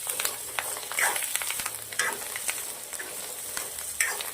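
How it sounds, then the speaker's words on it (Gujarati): Spices sizzle and scrape in a pan as chili powder, turmeric, salt and fresh coriander are stirred into a peas-and-potato gravy curry. The stirring and frying sound stays steady and close for several seconds, with no talking. "મસાલો નાખ્યા પછી 2 થી 3 મિનિટ સુધી અને આવી રીતના સાંતળવાનું છે."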